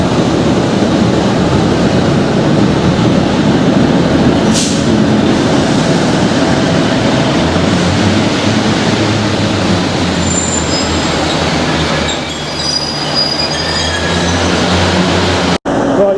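A train that started from Kirkby rumbles loudly and continuously at close range, with wheel squeal and faint high screeches toward the end.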